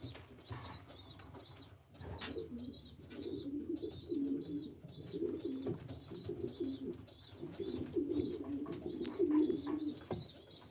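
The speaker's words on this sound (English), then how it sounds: "This guy has a nice looking pigeon here." Pigeons coo over and over in a breeder loft, low throaty rolling calls from several birds overlapping near and far, with thin higher chirps repeating steadily in the background.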